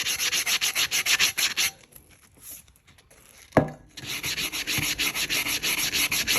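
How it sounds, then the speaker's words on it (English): Rhythmic rough scraping of an 80-grit sanding block on a tumbler, steady back-and-forth strokes, then a brief pause with a knock before the sanding resumes. "I'm going to start with an 80 grit sanding block."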